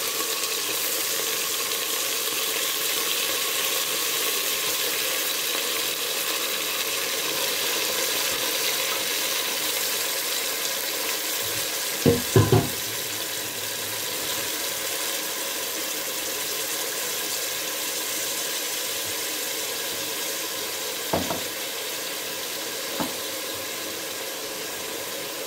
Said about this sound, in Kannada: ನಿಧಾನವಾಗಿ ಎಣ್ಣೆಯಲ್ಲಿ ಒಂದು ಸ್ವಲ್ಪ ಫ್ರೈ ಮಾಡ್ಕೊಳ್ಳಿ